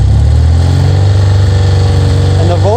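A BMW Airhead motorcycle engine, with a failed alternator, runs at a close, loud, steady idle with a low throbbing pulse, then rises in pitch near the end as it is revved up a little.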